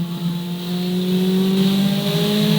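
Ferrari 488 Challenge race car accelerating hard on a track at Speed Vegas, its engine note rising steadily and loud from the cabin, with the sustained high-revving tone climbing through the whole stretch and no talk.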